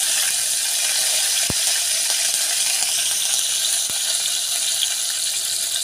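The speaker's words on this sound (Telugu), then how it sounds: "ఒక పాత్రలో 2 స్పూన్ల నూనె వేసుకొని నూనె హీట్ అయిన తర్వాత ఈ పోపు దినుసులు అయితే యాడ్ చేసేసుకుందాం" Mustard seeds, spices and curry leaves sizzle in hot oil for chutney tempering with a steady, bright crackling hiss, punctuated by two sharp clicks.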